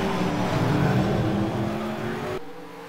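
Race cars roar continuously on a track under racing commentary-free conditions, loud steady engine drone with harmonic tones, dropping off sharply near the end as the field passes.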